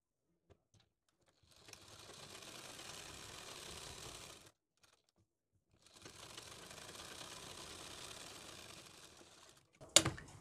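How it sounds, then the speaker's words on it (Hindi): A domestic sewing machine stitches fabric along a buckram edge for a sleeve design, running in two steady bursts of about three seconds each with a short pause between them and a sharp click at the end, with no voices. "अब हम बुकरम के बराबर बराबर सिलाई लगा देंगे"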